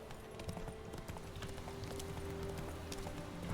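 Roach the horse gallops at a steady clip in The Witcher, with a rapid, even rhythm of hoofbeats carried over a low ambient music bed, moderately close and fairly quiet.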